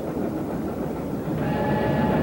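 A train crowded with German soldiers gives off a steady, moderately loud rolling rumble that continues without a break and swells slightly toward the end, with no voices.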